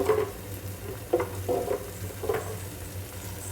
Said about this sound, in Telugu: ఇందులోకి వచ్చేసి మనం కారం యాడ్ చేసుకుందాం.